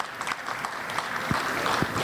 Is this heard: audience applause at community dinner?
yes